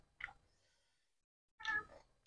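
Two short meows from a nearby cat, separated by a quiet pause, the second louder and longer than the first.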